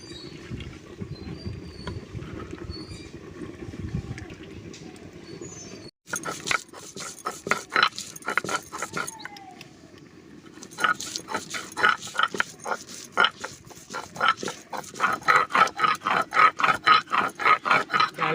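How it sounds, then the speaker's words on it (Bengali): Soaked chana dal is ground into a paste with repeated rough scraping strokes up close. Irregular bursts give way to a fast, steady back-and-forth rhythm near the end, with no talk. "তাই ছোলার ডালটা বেটে নেব।"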